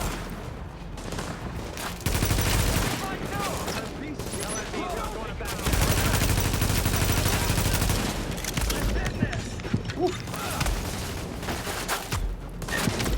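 Gunfire rattles through a firefight in the video game The Division, with dense bursts of rapid automatic shots and heavier booms repeating in clusters, while a voice talks intermittently underneath.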